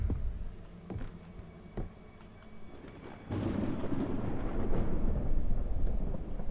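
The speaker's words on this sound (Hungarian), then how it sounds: "Hát persze, hogy vihar van." Thunderstorm in the horror video game Visage: faint sharp cracks and thuds, then a heavier rumbling wash of storm noise that swells and holds loudly to the end, with no talk.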